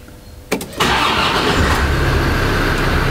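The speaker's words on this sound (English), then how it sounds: "Let's crank the engine." Land Rover Defender Td5 diesel engine, heard close, gives a brief crank and catches almost at once, then settles into a steady, loud idle.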